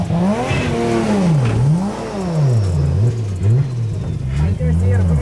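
Nissan 350Z engine revving hard during a drift session, the pitch rising and falling in repeated swells, loud and close throughout the whole stretch.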